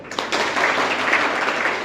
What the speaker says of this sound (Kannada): ಈಗ ಒಂದು ಚಪ್ಪಾಳೆ ಹೊಡೆಯಿದೆ ಜೋರಾಗಿ